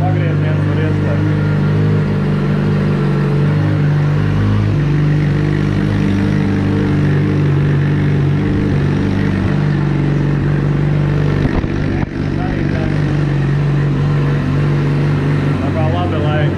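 A Yamaha FZ1 motorcycle warms up close by, its engine holding a steady, loud, rough idle throughout with little change in pitch, while someone talks over it.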